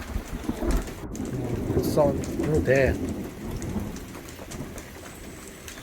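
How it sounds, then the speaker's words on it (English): Rain falls steadily at Daws Hall Nature Reserve with a low rumble of thunder beneath it, a continuous patter; people talk over the rain. "We're consulting the map and it's thundering now."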